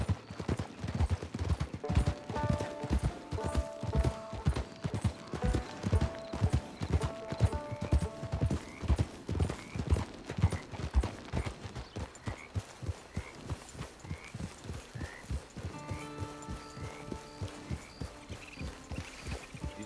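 Horse hooves clip-clop steadily at a walking pace in Red Dead Redemption 2, an even rhythmic series of hoof strikes continuing throughout, with background music tones and a brief snort or whinny.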